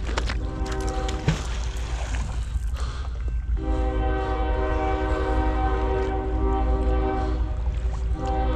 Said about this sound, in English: Oh, here's a train going by.